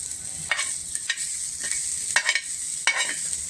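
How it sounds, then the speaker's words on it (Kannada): Steady stirring of fried masala, made with avarekalu (field beans), into paddu batter, a close wet scraping and squelching in repeated strokes with sharp accents, alone with no talk. "ಮಸಾಲೆನ ನಾನು ಇವಾಗ ಹಿಟ್ಟಲ್ಲಿ ಹಾಕ್ತಾಯಿದ್ದೀನಿ"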